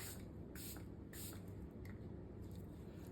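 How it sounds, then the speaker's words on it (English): Milani Long Lasting Setting Spray is misted onto a face in several quick, soft hissing bursts spaced unevenly, heard close and fairly quiet over low room noise. "Spray before you put your mascara on."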